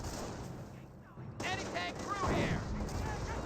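Company of Heroes battle: an anti-tank gun fires amid sharp gunfire cracks and bursts, followed by a denser clatter of combat noise; someone talks over part of it.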